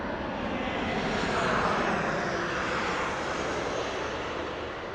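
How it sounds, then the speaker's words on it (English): An airliner arrives at Las Vegas Harry Reid International Airport, a broad, loud, steady engine roar that swells slightly and then eases off, with no voices. "And we have an incoming flight right now."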